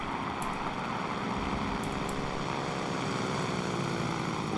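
Propeller airplanes droning overhead, a loud, continuous engine hum with a slowly shifting pitch that holds steady throughout.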